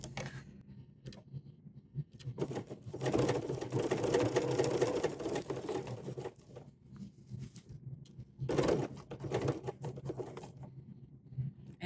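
A BERNINA L 890 serger runs in two bursts while sewing gathers and ruffles, giving a fast, steady mechanical whir and patter, with quiet handling between the runs.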